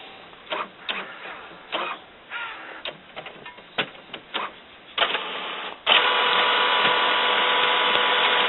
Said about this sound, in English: It's going to go through and it's going to check the cartridges